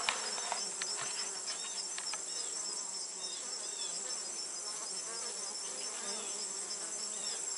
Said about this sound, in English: you can see my bees going in and out